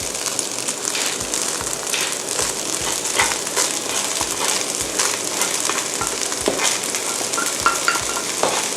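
Yangzhou fried rice stir-fried in a hot pan, a steady loud sizzle with rhythmic scraping and tossing strokes throughout, no talking.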